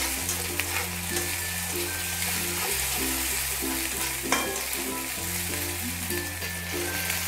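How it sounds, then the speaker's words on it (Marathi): Finely chopped tomato frying in a pan over high heat, a steady close sizzle with bubbling crackle throughout and no talking. "त्याला पण 1 मिनटं मस्त फ्राय करून घ्यायचं आहे."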